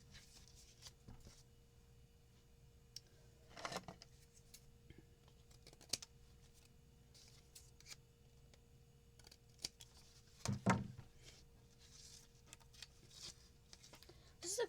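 Scissors trimming the sides of a handmade paper card, a few faint snips and crisp cuts scattered through a quiet passage, with one louder cluster near the end.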